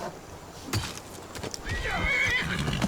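Horses in a video game fort with bandits, steady clip-clop hoofbeats with a drawn-out whinnying neigh rising near the end, fairly close and clear.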